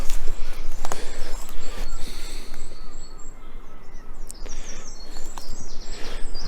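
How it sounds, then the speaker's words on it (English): Small birds chirp and sing near the Kettleness railway tunnel, their calls scattered across the clip over a steady outdoor background of rustling and low rumble. "got all the birds singing"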